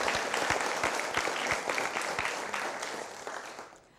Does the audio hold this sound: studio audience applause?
yes